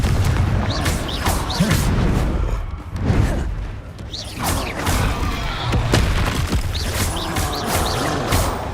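The Confringo explosive spell in the video game Hogwarts Legacy: several blasts and thuds in quick succession over a loud, busy combat din with mechanical creaks and crashes.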